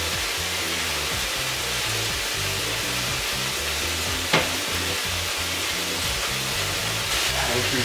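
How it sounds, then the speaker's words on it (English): Thin eggplant slices sizzle on a hot, dry grill pan with no oil, a steady, loud hissing crackle throughout with a brief clink partway through. "they will be cut in slices, thin slices, and I will grill them with my old reliable grill pan"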